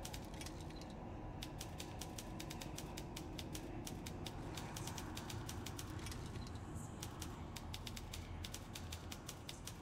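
Rapid typewriter keystrokes in The Room Two puzzle video game, a steady run of sharp clicks over a constant low mechanical hum, moderately quiet with no voices.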